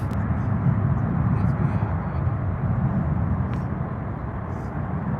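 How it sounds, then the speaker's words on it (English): An airplane takes off from a San Diego runway, a broad steady engine roar heard from a distance and holding level throughout. "I get to see airplanes every day flying,"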